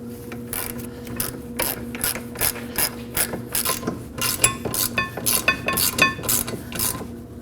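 A hand ratchet snugs up the rear brake caliper bracket bolts on a 2011–2012 Kia Optima, giving quick repeated clicking strokes in uneven bursts, close and clear.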